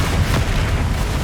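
A brief, loud, booming blast from Bombarda and Confringo spells in the video game Hogwarts Legacy, a dense burst of low rumble and crackle lasting about a second.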